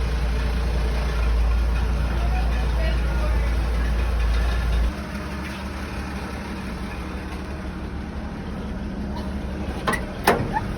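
A 1965 Chevy Sportvan under restoration idles with a deep, steady engine rumble that cuts off about halfway through, leaving a quieter scene. Voices can be heard talking nearby.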